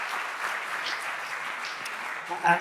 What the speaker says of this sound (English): maybe just a quick round of applause from everyone just to warm up the room